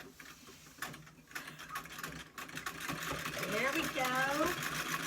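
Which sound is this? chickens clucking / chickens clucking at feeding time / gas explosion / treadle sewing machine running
treadle sewing machine running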